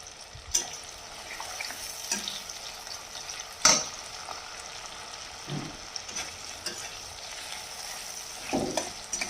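Slit green chillies fry in hot oil, giving a steady close sizzle broken by a few sharp pops and stirring clatters.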